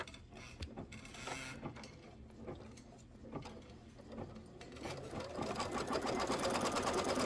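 An embroidery machine sews a placement stitch with rapid mechanical clatter, quiet at first and growing louder and busier toward the end.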